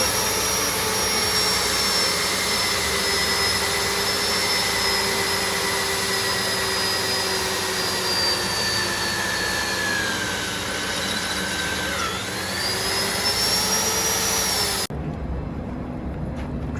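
A magnetic drill clamped onto steel runs with a loud, steady motor whine and tonal hum for about fifteen seconds, dipping briefly in pitch near the end before cutting off abruptly.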